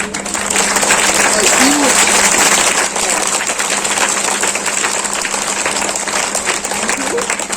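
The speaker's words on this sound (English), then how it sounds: "You don't want to clap for them?" An audience at an Independence Day celebration in Goa applauds a student performance, loud dense clapping that swells quickly and holds steady for several seconds.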